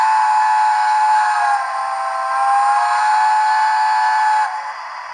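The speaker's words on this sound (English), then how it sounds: "F2, chime whistle long." A long, sustained chime whistle of a Hornby Mallard model steam locomotive sounds steadily and loudly for about five seconds before tapering off.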